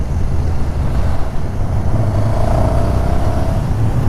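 A KTM 1290 Super Duke R motorcycle pulls in fourth gear, its engine a steady loud low drone that chugs slightly, with a rising tone emerging midway as it accelerates.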